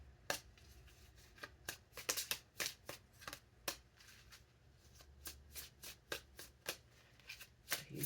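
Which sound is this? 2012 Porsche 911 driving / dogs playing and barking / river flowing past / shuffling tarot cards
shuffling tarot cards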